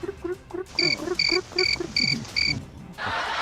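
A cricket chirps in a run of five evenly spaced, shrill pulses over a faint murmur of voices, followed by a burst of hiss.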